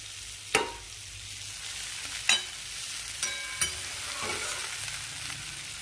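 Yardlong beans fry in a pan with a soft steady sizzle, punctuated by a few sharp clicks of a spatula stirring against the pan, close and fairly quiet with no voices.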